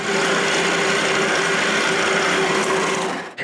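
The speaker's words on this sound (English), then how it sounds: "Then I have to drill the shaft's hole." A drill bores the shaft hole through a wooden part for a homemade wooden bandsaw, a loud, steady whirring grind held for several seconds before winding down abruptly.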